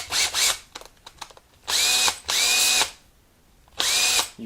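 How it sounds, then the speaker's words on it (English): A power drill turns a reamer to enlarge the end pin hole of a guitar for a K&K Mini pickup install, running in three short buzzing bursts with brief stops between. "let the reamer guide itself down there"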